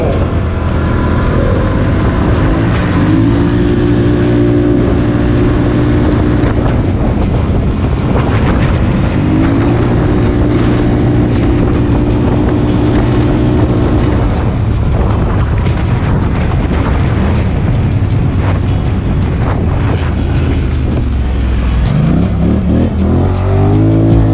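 A 2020 Polaris Scrambler ATV driving off-road on Tug Hill, New York, its engine loud and close, repeatedly revving and settling with rising and falling pitch, with wind buffeting throughout.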